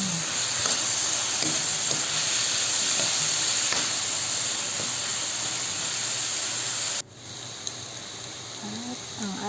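Okra and alamang shrimp paste sizzle steadily in a hot pan, a continuous close frying hiss that drops away abruptly partway through, then resumes more quietly with a few soft clinks.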